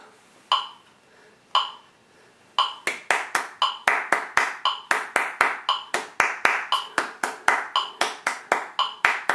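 Metronome click ticking alone for a few beats, then hand claps join in a fast steady sixteenth-note rhythm, sharp and close, each clap crisp with a quick decay.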